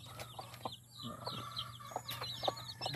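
Several chickens cluck and chatter close by as they eat rice hull feed, a busy run of short overlapping calls and squawks without pause.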